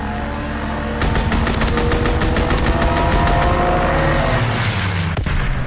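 A fighter aircraft strafing run in Call of Duty WW2, a rapid burst of machine-gun fire lasting a few seconds over a loud rumbling engine drone, followed by a fading roar and a final sharp crack.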